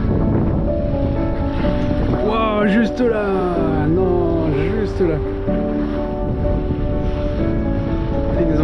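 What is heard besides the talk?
ocean waves around a fishing boat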